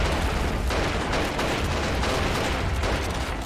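Dense artillery and gunfire from the video game Army Men of War in a World War I trench assault, a steady roar of overlapping shots and blasts filling the whole stretch without pause.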